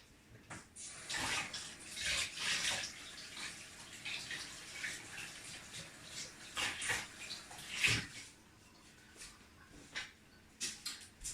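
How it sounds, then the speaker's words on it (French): Hands are washed under a running tap while cooking, with bursts of splashing and flowing water rising and falling in uneven surges, fairly close and fairly quiet, with no talking. "Je vais me laver les mains."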